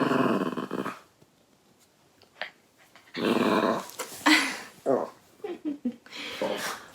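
A dog growls in low rumbling bursts, close by, with short pauses between, while a person's voice is also heard nearby.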